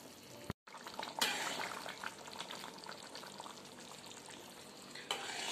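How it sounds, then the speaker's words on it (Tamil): Brinjal dry fish curry simmers in a pot over a medium flame, a soft, steady bubbling sizzle that carries on alone after a brief dropout near the start, with a couple of small clinks. "ஒரு 20 மினிட்ஸ் அப்படியே மீடியம் ஃப்ளேம்லேயே கொதிக்கிட்டோம்."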